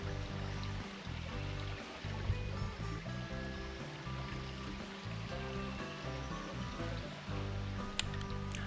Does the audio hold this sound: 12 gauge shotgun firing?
no